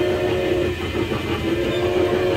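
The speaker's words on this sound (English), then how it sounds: "We've got a train. It's a train." A train rumbling past with a steady rolling drone and faint clatter, fairly loud and continuous, no talk.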